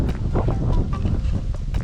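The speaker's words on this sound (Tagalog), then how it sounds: "naririnig niyo ba yung ano, hangin?" Gusty wind buffets the microphone with low, uneven rumbling at a mountain resort, rising and falling across the short stretch.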